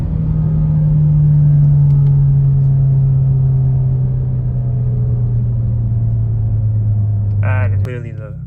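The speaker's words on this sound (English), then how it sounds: "Downshift right quick." Inside a moving Kia Stinger 2.0 tuned with a Race Chip and pedal commander, the engine gives a loud, close, steady drone that slowly falls in pitch. It fades abruptly near the end, followed by a brief sound like a voice.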